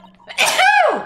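A single sharp human sneeze, close and loud, rising abruptly and trailing off within about a second, with no talk around it.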